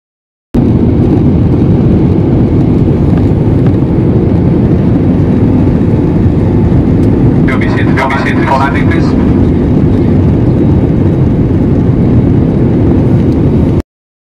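Steady, loud roar of airliner engines heard from inside the cabin as the plane comes in to land, a continuous broadband drone with a brief faint chatter partway through.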